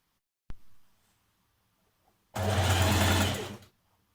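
A single sharp click, then a short close burst of a sewing machine stitching a dress seam with a slight stretch stitch, lasting about a second before stopping.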